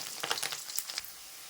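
Fresh curry leaves frying in hot oil, a quick close crackle of spitting and sizzling pops that fades to a soft hiss within a second or so.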